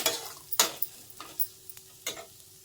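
A spatula scrapes and stirs a bitter gourd mixture in a frying pan, giving a series of irregular, close scraping strokes over a soft, steady sizzle.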